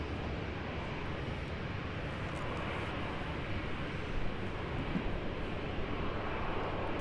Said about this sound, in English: that little Rex 737 is going off to Sydney as ZL337